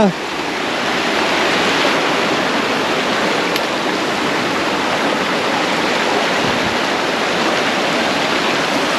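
Waterfall at Bira-Bira Falls in Cawag, Zambales, a steady loud rush of falling water that fills the scene without pause, with no voices over it.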